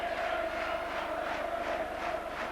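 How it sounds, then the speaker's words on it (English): Rugby league stadium crowd in a continuous roaring cheer, broad and distant-sounding, with swelling waves of noise and no single voice standing out. "Listen to this crowd now."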